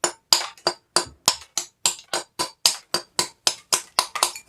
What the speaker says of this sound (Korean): 망치의 이 부분요, 이 부분으로 이렇게 요 구멍 주위부터 먼저 이렇게